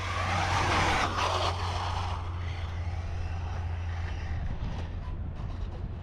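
A radio-controlled car runs a lap around a race track, its high electric motor whine and tire noise steady and moderately loud, fading slightly as it moves away.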